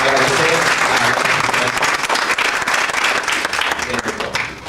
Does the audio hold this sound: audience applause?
yes